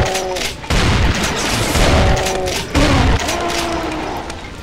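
Brutal Doom co-op gunfire with rapid, loud repeated shots in dense bursts, two heavier blasts standing out, continuous for several seconds with a voice faintly underneath.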